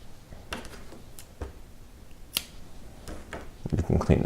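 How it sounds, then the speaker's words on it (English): Scissors snip crochet yarn ends on a candy cane piece, giving a few sharp, close clicks spread over a few seconds, with a soft rustle near the end and no speech. "cut where those are peeking out at the bottom"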